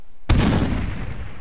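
A single loud frag grenade explosion in a video game booms suddenly after a brief silence, then decays into a long rumbling tail.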